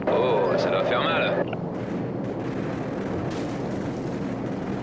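Heavy cannon fire in the video game Call of Duty Modern Warfare: a dense, continuous rumble of booms and blasts fills the whole stretch, with a voice heard briefly over the opening moments.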